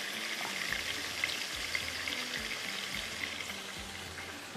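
Chicken for chicken tikka pasta frying on a high flame, giving a quiet, steady sizzle with soft, irregular thuds of stirring beneath it and no talking.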